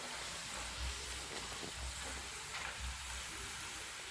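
Cassava chips frying in hot oil, a steady close sizzle and hiss with faint bubbling that holds evenly throughout, with no voices.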